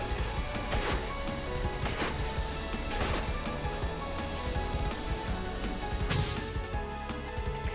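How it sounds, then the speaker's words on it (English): Footsteps of a tanuki character running in the platformer video game Lunistice, a quick train of light, crisp step sounds layered over busy game music and effects, with no talking. "Yeah, she's got the steppy noises on her feetsies."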